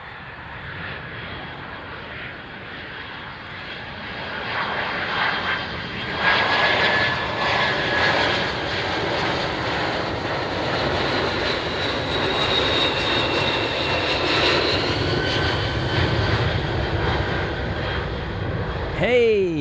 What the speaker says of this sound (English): love these aircraft, the wonderful TriStar